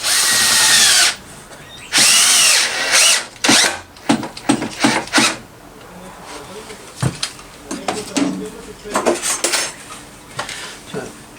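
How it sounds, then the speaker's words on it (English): A power drill drives two screws into wood, loud whirring bursts close by, the first two longer, then shorter stop-start pulses, with clattering of pieces and brief talk in between. "Just putting these 2 screws in to stop everything falling apart"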